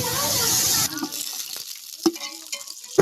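Onions fry for biryani in a large pot, a loud steady sizzle that cuts off abruptly after a second, leaving quieter scraping and stirring clatters.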